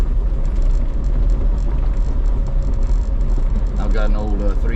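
An old Jeep with a 3-speed automatic rolls downhill in second gear in low range on the Hell Creek Rd trail, its engine braking as a steady, close low rumble, with a voice briefly near the end.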